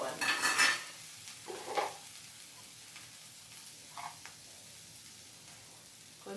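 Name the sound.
stirring bitter gourd curry with salt and turmeric in pan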